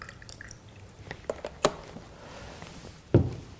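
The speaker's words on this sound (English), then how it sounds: "we're going to soak our fruits and vegetables" Fruits and vegetables are soaked in a container of water, giving quiet sporadic drips, splashes and squishy liquid sounds, with one louder splash near the end.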